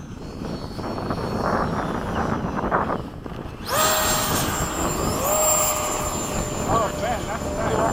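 Hawk jet aircraft in formation make tandem touch-and-go passes, engine noise roaring and whining steadily and growing louder partway through, with people talking over it.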